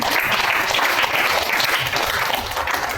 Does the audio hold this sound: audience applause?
yes